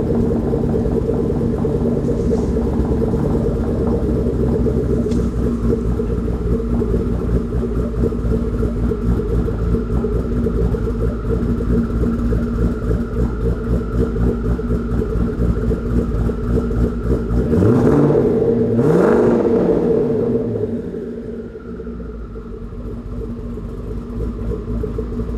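A Grabber Blue Ford Mustang Boss 302 V8 with a Lund cam tune idles with a loud, lumpy rumble, then revs sharply once near the end before settling back to idle.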